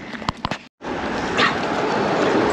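A reactive dog gives a few short whimpers and yips at the start, then a steady broadband rush of outdoor noise follows after a brief gap.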